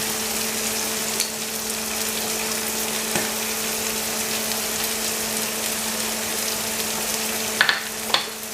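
Spices frying in oil in a pan, a continuous soft sizzle with a low steady hum and a few sharp clicks near the end, no talking.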